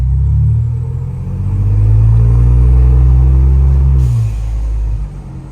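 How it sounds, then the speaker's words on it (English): A Ford Bronco with a 2.7L engine and Flowmaster exhaust revs loudly up close, its deep throaty rumble swelling and holding for a few seconds before dropping off sharply. "it's definitely way louder than the stock exhaust."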